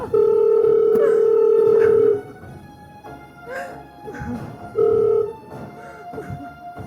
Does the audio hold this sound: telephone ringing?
yes